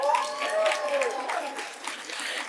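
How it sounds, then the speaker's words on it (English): Audience applauding sponsors at the Garden Grove State of the City 2024 event, a steady wash of clapping from a crowd with a voice speaking over it. "No need to hold your applause as they deserve recognition."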